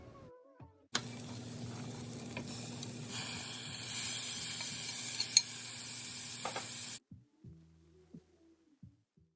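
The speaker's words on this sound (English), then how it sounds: "Let's go ahead and add in our steak that we have been marinating." Marinated steak drops into a hot pan of softened vegetables and sizzles loudly and steadily for about six seconds, with a few scraping stirs, then cuts off to quieter kitchen clatter.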